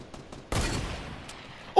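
Gunfire in a shooter video game: a soft tap or two, then a sudden loud burst of rapid shots that rings on and fades over the next second, with a sharp hit at the very end.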